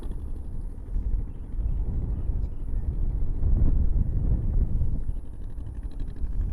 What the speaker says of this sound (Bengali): এখানে একবার হাওয়ার সাউন্ডটা দেখো